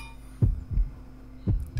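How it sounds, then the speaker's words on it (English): Heartbeat in the horror video game Yomawari: Night Alone, heard as low, heavy double thumps repeating at a slow, steady pace over a faint hum, with no talking. "He listens to your heartbeat and then stops it."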